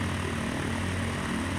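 Continuous engine drone of an aircraft taxiing in Microsoft Flight Simulator, a steady propeller hum and rumble with no gaps.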